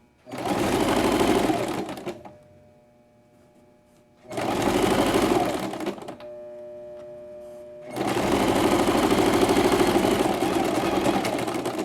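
A sewing machine stitches piping onto fabric in three loud, close bursts of whirring stitches, separated by pauses in which a faint hum remains.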